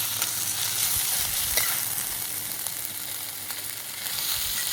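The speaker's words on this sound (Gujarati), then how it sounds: "કોબી મરચાંના સંભારાને આમ જ ખુલ્લો છે એ કરવા દેવાનો તો આપણો સંભારો છે એ સરસ રીતે ચડી ગયો છે" Cabbage and green chili sambharo cooking uncovered in an open pan, giving a steady soft sizzle with faint scrapes and clicks, close and continuous with no voices.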